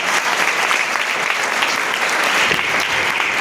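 Steady, dense audience applause at a school or community recital in honour of a young girl who has just sung about grandparents, sustained evenly throughout with no speech.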